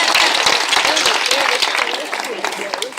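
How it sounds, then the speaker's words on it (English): Audience applause at a community youth organization dinner, loud and continuous clapping filling the room with voices mixed in throughout. "So let's give a round of applause to Talia and El-Chai."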